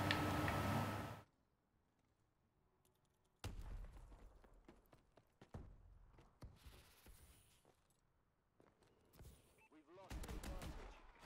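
Rapid automatic gunfire from a powerful gun in Call of Duty: Advanced Warfare multiplayer, loud and near. Bursts come in clusters separated by short quiet gaps, with crackling reports between the volleys.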